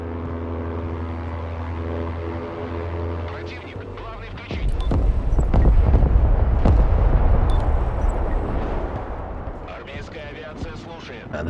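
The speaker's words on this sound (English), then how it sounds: "I'm gonna need some airstrikes on the right here" Airstrikes in the modern warfare strategy game Broken Arrow, with aircraft engines droning under a low, rumbling barrage of explosions that builds midway and lingers, a voice speaking at the start.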